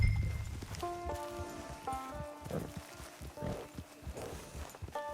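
Horse hooves clip-clop at a steady walking pace in the video game Red Dead Redemption 2 Online, accompanied by soft chiming musical tones in the background.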